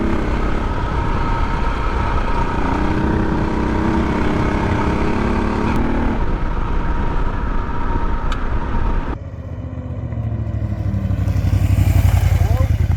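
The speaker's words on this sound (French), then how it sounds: "le moteur qui marche, c'est bien" An engine runs loud and close in a continuous rumbling drone, dropping briefly and then surging back up near the end.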